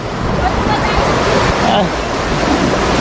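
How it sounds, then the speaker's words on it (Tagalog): River water rushes steadily at Wawa Dam in Montalban, Rizal, a loud continuous roar of flowing current close by, with a voice speaking over it. "Ganda ng agos ng tubig mga kamaro."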